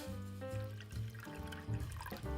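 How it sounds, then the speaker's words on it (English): Water poured into a pan over the heat to make a double boiler for melting chocolate, a continuous close trickle and gurgle of filling liquid with shifting pitch, no voices. "then pour in some water to create your double boiler"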